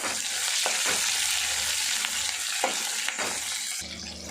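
Chopped onion, carrot and green chilli frying in a tempered oil for korrala lemon rice, a dense continuous sizzle with occasional scrapes of stirring, close and fairly loud with no voices.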